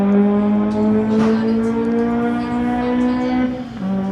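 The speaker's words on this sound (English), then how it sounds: "Rolling straight into the beams, spooling up the revs, spinning up the rear tires." Sport compact street-legal drag car at the strip holds a loud, steady high-revving engine tone on the line for several seconds, then shifts pitch near the end as it launches, with a faint burst of tire noise midway.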